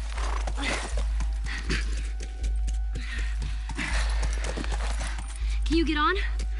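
Rhythmic clip-clop of horse hooves over a steady low rumble in the video game The Last of Us, ending with a wavering whinny; people talk over the game sounds.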